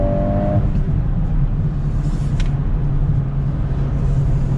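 A 2022 Volkswagen Golf R engine pulls hard at wide open throttle, a loud, sustained drone from inside the car that holds steady with a brief higher whine partway through.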